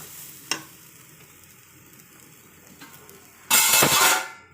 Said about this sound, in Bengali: এখন আমি এর মধ্যে কয়েকটা কাঁচামরিচ দিয়ে নিচ্ছি আর আঁকনি পানিটা দেব